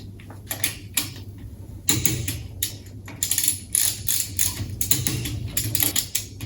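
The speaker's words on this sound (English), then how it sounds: "we will stop when the torque wrench clicks with less than 10 degrees of angle" Torque wrench ratcheting and clicking while tightening Superbolt jack bolts on a load-sensing tensioner, a series of sharp, close mechanical clicks and ratchet bursts in an irregular rhythm over a steady low hum, with no talking.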